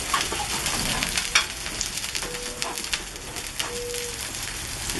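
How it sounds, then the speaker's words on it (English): Onions sizzling on a hot griddle where fatty meat is cooking, a steady crackling hiss with occasional sharp spatters and a couple of faint scraping tones, close and moderately loud, without speech. "maybe I'll put some onions down over here."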